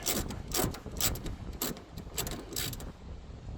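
A ratchet tightens a bolt on the door lock actuator of a 2011-2017 Hyundai ix35, giving bursts of close, rapid clicking, about six strokes with short pauses between them.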